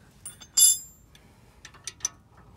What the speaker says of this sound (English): Try to combine two wrenches just like that.